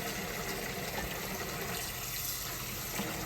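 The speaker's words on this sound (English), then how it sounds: "Get the water here. We're gonna fill it up with water." Tap water runs steadily into a crockpot for butter beans and ham hocks, a constant rushing hiss of filling liquid heard close and alone, with no talking.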